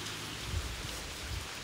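Rain falls steadily around a tunnel in Kanagawa at night, a soft continuous hiss of drops on surfaces with a couple of faint low thumps and no voices.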